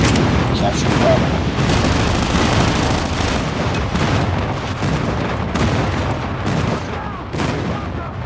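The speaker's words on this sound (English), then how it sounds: "Friendly airstrike incoming" Continuous booming explosions and rumbling blasts from a friendly airstrike in Call of Duty Mobile multiplayer on the Tunisia map, dense and loud throughout with gunfire mixed in and announcer voices over the top.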